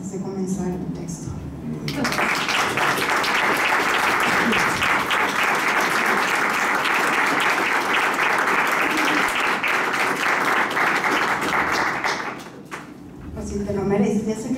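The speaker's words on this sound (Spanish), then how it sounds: "quisiera un fuerte aplauso en honor a mi papá" Loud, sustained audience applause at an arts tribute in Mexico swells suddenly and holds for about ten seconds before fading, with voices speaking just before and after it.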